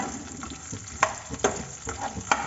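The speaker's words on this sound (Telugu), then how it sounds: "ఇప్పుడు ఈ ఆనియన్స్ వచ్చేసి మనము బాగా ఆయిల్లో కొద్దిగా" Onions fry in hot oil for pepper rasam, a soft continuous sizzle close by, broken by a few sharp clinks and scrapes of a stirring utensil against the pan.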